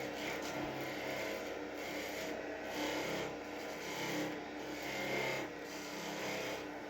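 A skew chisel cuts a V groove into a spinning wooden birdhouse ornament body on a lathe, giving a steady close rasping scrape that pulses slightly with each pass, alone without talk.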